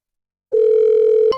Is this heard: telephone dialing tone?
yes